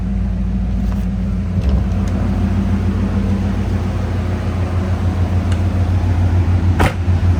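A 2002 Chevrolet Corvette Z06 idles steadily, heard from outside the car: a loud, even low rumble that holds constant throughout, with a couple of faint clicks and no talking.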